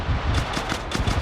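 M249 machine-gun fire in Arma Reforger comes as quick, rattling bursts, several short volleys in a row at moderate loudness, with no talk over them.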